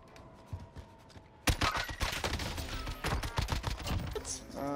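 Single-fire gunshots in the video game Warzone, a close run of sharp, rapidly repeated shots that start abruptly and continue while a voice talks over them.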